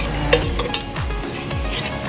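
Shrimp frying in a pan for Filipino misua soup, a steady sizzle broken by a few sharp clicks and scrapes of stirring, close and moderately loud.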